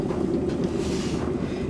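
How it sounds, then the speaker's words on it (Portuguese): Water bubbles at a rolling boil in a pot, ready for making homemade powdered cappuccino, a dense, steady, close rushing bubble with no voices over it. "A água tem que estar mesmo a borbulhar, ó, como estão a ver."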